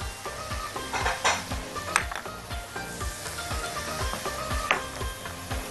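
A utensil repeatedly scrapes and clinks against a pan while shrimp cream tagine with paprika, cumin, black pepper and garlic sizzles, a steady close stirring rhythm over a soft background hiss.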